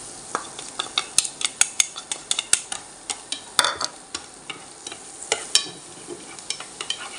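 Minced garlic sizzles and crackles in hot butter while a utensil stirs and scrapes against the pan in quick, irregular clicks.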